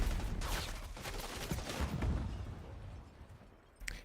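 An AK rifle fires in the video game Call of Duty: Black Ops 6, with dense crackling bursts and rumbling gunfire running continuously at a quiet, distant level before a sharper pop at the end.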